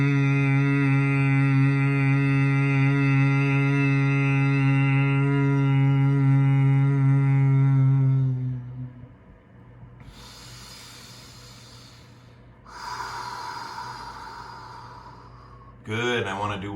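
Bhramari yoga breath: a long, steady humming exhale for about eight seconds, followed by a couple of audible breaths in and out, close and clear.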